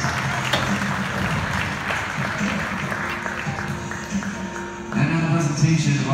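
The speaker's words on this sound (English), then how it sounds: "A big round of applause for our CSI Dolphins." Crowd applause in a college basketball gym for a championship team, steady sustained clapping filling the hall with a low hum and voices beneath, rising again toward the end.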